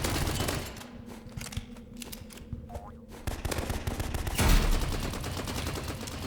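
Rapid bursts of gunfire from guns in the Roblox game Rivals rattle in quick repeated volleys, loud and near, with a heavier blast toward the end.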